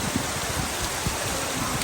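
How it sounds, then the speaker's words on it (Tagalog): Heavy rain falls steadily during a holiday trip in Daet, Camarines Norte, a dense, unbroken hiss of drops with a few heavier patters close by and no talking. "Ayan, lakas ng ulan oh."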